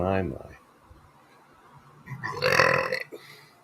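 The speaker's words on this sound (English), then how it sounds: "Now that's a burp." A person lets out a loud, drawn-out burp lasting about a second, preceded by a brief moment of speech and quiet room noise.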